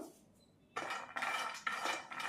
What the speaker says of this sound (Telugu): బాండీ పెట్టుకొని ఒక కప్పు బాదం పప్పులు వేసుకుందాం అలానే ఒక గుప్పెడు జీడిపప్పు కూడా వేసుకోండి ఇవి లైట్గా వేపుకుందాం